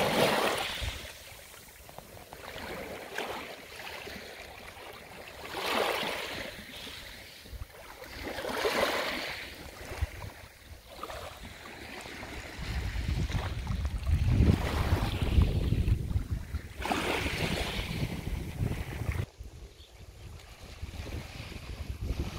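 Surf washing ashore at a small beach in Attica, Greece, with wind buffeting the microphone; waves swell and recede in slow surges, building to a heavier rush midway before easing off.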